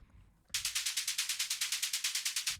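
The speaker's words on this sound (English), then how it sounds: "So I added the Ableton vocoder." Closed hi-hat loop run fully wet through Ableton's vocoder for raw techno, entering after a short quiet lead-in as a steady train of roughly sixteen bright, hissing pulses, loud and alone with no voices.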